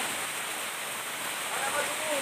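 A waterfall (curug) in Sukabumi, Indonesia roars as a broad, constant rushing wash, loud and close, with faint voices in the background.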